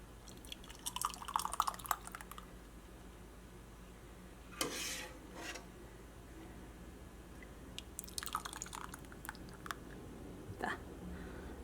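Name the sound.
palada payasam being poured into a glass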